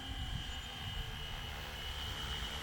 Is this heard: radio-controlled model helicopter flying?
yes